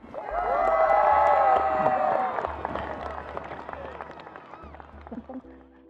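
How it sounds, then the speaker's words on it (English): Loud crowd of students and families cheering and whooping across an outdoor school field during a Wildcats spirit event, swelling quickly and then tapering off, with some voices carrying over the roar. "Let's give them a big and loud Wildcat cheer."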